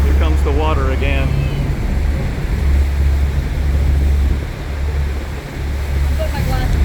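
Water spray and surf rush loudly against the Maid of the Mist tour boat near Horseshoe Falls, with a steady low engine rumble and wind throughout, while people call out excitedly over the noise.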